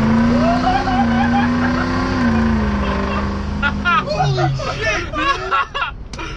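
A school bus with a 500 hp, 1000 lb-ft engine running 30 psi of boost accelerates hard at full throttle, a loud, rising engine roar that swells from inside the cabin, with excited voices and shouting breaking out over it toward the end.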